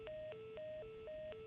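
Telephone dialing tones in The Last of Us video game, a quick alternating pair of pitched beeps repeating in a steady rhythm, clear and moderately quiet, with no voices.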